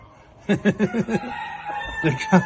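A rooster crows in a short burst of choppy, clucking calls up close, followed by a higher drawn-out tone, with some background noise.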